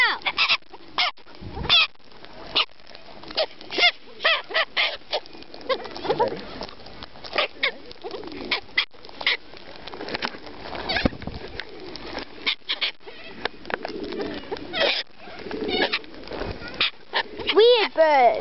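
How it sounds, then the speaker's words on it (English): A flock of wild corellas, a type of cockatoo, screeches harshly and repeatedly at close range in a dense, overlapping chorus while people talk and shout nearby. "Weird birds!"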